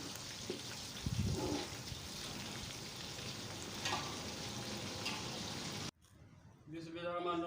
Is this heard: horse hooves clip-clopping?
no